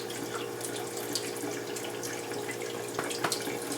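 Tap water runs steadily into a sink, rinsing a brush, with splashing and occasional sharper spatters, close by and continuous throughout.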